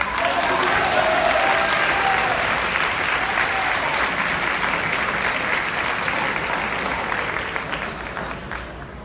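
Sustained applause from a sports banquet audience for the junior boys soccer team's MVP award, dense and even, slowly tapering near the end.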